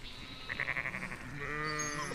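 Sheep bleat outdoors on a farm, a quavering call followed by a longer, higher bleat, fairly close and clear with no talk.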